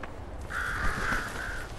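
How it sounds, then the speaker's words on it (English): Crows caw in a video game, a single drawn-out harsh squawk that is fairly loud over a steady murky background hum, with no talking. "Are you trying to jump scare me with the crows?"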